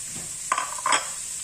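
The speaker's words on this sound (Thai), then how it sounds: "ใส่น้ำมันลงไปจักหน่อยหนึ่งจ้ะ แล้วก็ใส่ กระเทียมกับกระเทียม หอมหัวใหญ่ เห็ดหอมลงไปจ้ะผัดให้หอม" Garlic, onion and shiitake mushrooms are stir-fried in a little oil, with a steady faint sizzle and two brief scraping strokes of a spatula in the pan.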